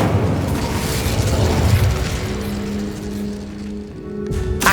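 Hogwarts Legacy Incendio fire spell bursting with a dense roaring whoosh and crackle, loud and continuous with rumbling lows before fading into game ambience.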